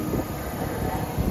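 A Tokyo tram running along its tracks, a steady low rumble of wheels and car body heard close and continuous throughout.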